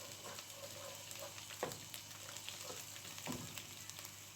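Chopped tomatoes go into a pan of garlic and ginger frying for a bhindi masala, a faint steady sizzle broken by a couple of scraping stirs, with no voices.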